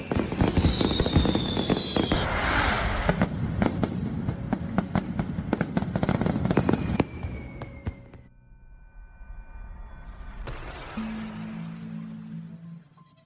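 Fireworks crackle and pop in rapid bursts with whistling rises, loud at first, then pausing before another fainter burst of crackling.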